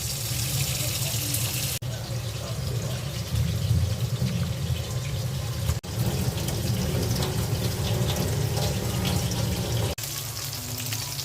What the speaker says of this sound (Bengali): চাল কুমড়োটা ধুয়ে নিব।